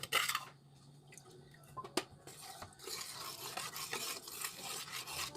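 Thai bamboo shoot curry with herbs stirred in a pot: a spoon scrapes and knocks against the pot in uneven close strokes over a soft simmering bubble, fairly quiet with no talk.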